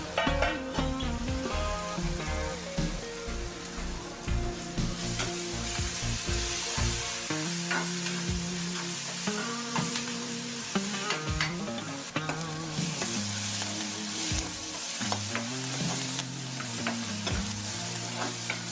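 Onions with green chilli and ginger fry in a pan for paneer bhurji, a steady close sizzle broken by repeated scraping stirs of a spoon, with no voices.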